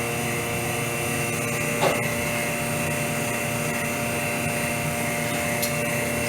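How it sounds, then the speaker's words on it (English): A steady, droning vacuum pump hum with a high whine runs throughout, pulling air from a bag while laminating a prosthetic, with a brief click near the middle. "I'll hit vacuum, you can start sucking the bag."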